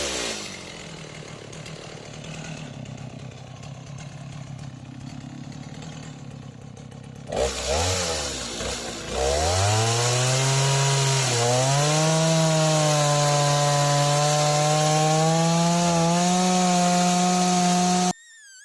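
A chainsaw mill cuts through wood, first a steady whine under load, then after a brief stall the engine revs up and settles into a loud, sustained cutting drone with shifting pitch that runs close and continuous until it cuts off at the end.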